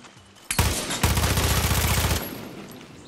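Gunfire in Far Cry 6: a single sharp shot, then a rapid automatic burst of evenly spaced rounds for over a second, ending abruptly into a fading echo.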